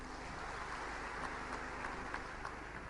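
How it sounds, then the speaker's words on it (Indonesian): A church congregation applauds during a worship service in a dense, continuous wash of clapping that holds steady for the whole stretch, somewhat distant and soft. "Berikan tepukan tangan buat Tuhan."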